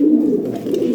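A large pigeon offered for sale coos at close range in a low, soft, continuous murmur, with no other sounds around it.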